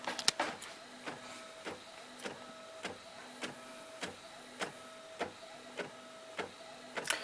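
A circa 2013 Epson XP600 inkjet printer at work, its print head clacking in a steady rhythm about every half second over a soft mechanical hum, close and alone.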